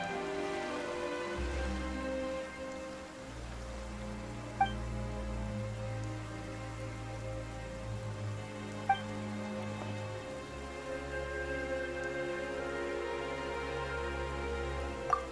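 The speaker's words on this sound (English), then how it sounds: "Why is it raining all of a sudden?" Rain falls steadily in the video game Genshin Impact, a soft continuous patter over a low musical drone, with a few faint chime-like accents and no talking.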